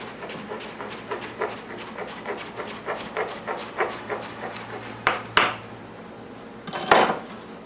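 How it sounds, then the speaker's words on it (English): A knife chopping cucumber into small squares on a cutting board, a quick steady run of close, crisp taps followed by a few louder, scraping strokes. "it's time to start cutting them into small squares"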